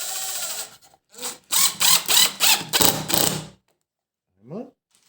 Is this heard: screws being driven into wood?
yes